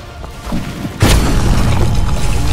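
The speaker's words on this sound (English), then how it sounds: "run into the middle of a battle and just throw a grenade" A grenade detonating in a Roblox battle game, one loud heavy boom that hits suddenly and leaves a sustained roaring rumble, with no talk over it.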